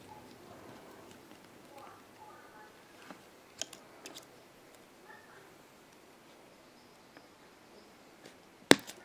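Jewelry wire for an elven filigree wire-wrap pendant is snipped with one sharp, loud click near the end, after a stretch of quiet handling noise and a few faint ticks.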